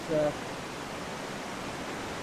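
A steady, broadband roar of rushing water at Golitha Falls, St Cleer, Cornwall, fills the scene, constant and loud with no breaks.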